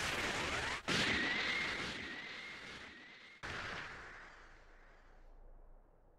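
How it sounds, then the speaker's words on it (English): A Special Beam Cannon blast from Dragon Ball: Sparking Zero fires as a loud, roaring energy beam with two sharp explosive bursts and a whooshing, sizzling tail that fades away. "Special beam cannon!"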